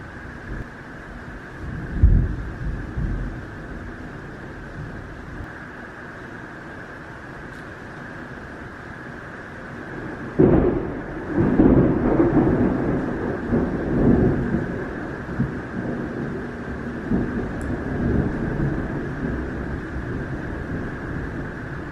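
Steady rain hisses throughout while deep thunder rolls in twice, a short rumble early and a longer, heavier peal midway that fades slowly.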